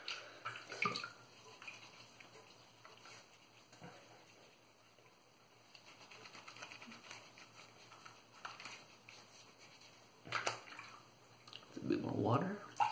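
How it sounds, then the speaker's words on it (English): Water trickles and splashes onto a TurnNShave mixed badger shaving brush held at a sink during a wet shave with Stirling lime soap, faint and quiet with a few brief louder splashes, mostly near the end. "I need to put some more water on there"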